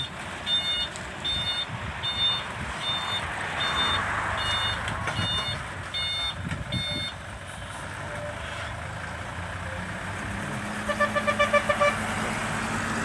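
Six-wheel New Holland dump truck backing down a steep slope, its reversing alarm beeping in a steady repeated pattern over a rumbling engine, followed later by a faster burst of beeps, distant and fairly faint.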